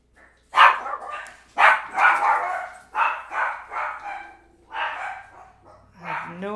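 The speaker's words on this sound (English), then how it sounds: "I have no idea what those dogs are trying to bark at." Several dogs bark in a series of sharp, repeated yaps and bow-wows at moderate distance, bursts spaced roughly every half second to a second, ending with a whimpering yip.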